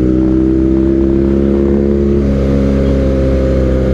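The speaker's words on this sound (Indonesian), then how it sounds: "Terus knalpotnya udah diganti, itu asik banget suaranya" A BMW R nineT motorcycle with an aftermarket exhaust revs, its loud, deep engine note rising and falling close by.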